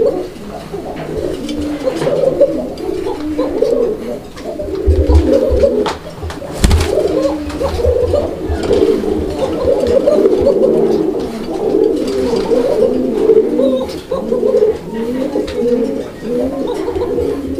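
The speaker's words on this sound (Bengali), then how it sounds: "কোকার যে ডাক, বুঝছেন, একদম অসাধারণ ডাক" Pigeons of the Raj-Golla breed coo steadily in a close, continuous chorus of overlapping rolling calls, with no voices present.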